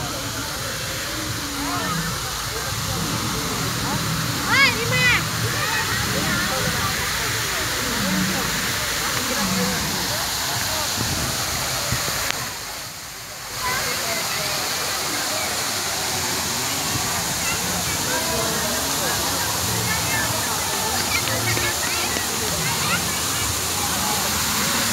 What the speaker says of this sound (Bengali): এখানে কৃত্রিম ঝর্ণা রয়েছে, ঝর্ণাটা অনেক সুন্দর